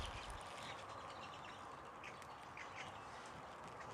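Ducks quack among other birds calling outdoors, faint and distant over steady background noise, with several short calls scattered through the stretch.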